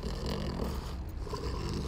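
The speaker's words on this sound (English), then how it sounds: "They are snoring like Betty's beagle" Baby snowstalker creatures in Subnautica Below Zero snore in a steady, dense, rumbling drone that fills the clip at moderate loudness, with no talking.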